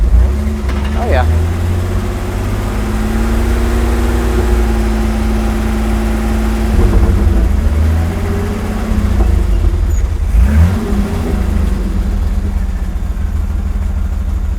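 Steady low rumble of a 1983 GMC Squarebody pickup engine, revived after 17 years stuck in a tree, as it drives along and revs, pitch rising and falling through the gears, with voices talking over the engine.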